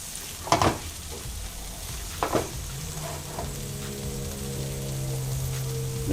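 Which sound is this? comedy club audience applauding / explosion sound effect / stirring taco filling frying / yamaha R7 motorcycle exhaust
stirring taco filling frying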